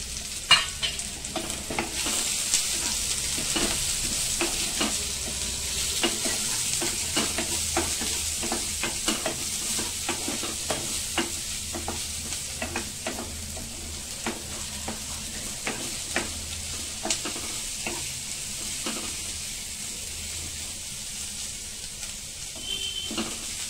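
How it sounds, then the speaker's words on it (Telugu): Half a cup of onions sizzles in a little oil, stirred with steady scraping strokes, close and continuous for the masala egg curry with no talking. "ఈ ఆనియన్స్ కూడా వేయించుకుందాం"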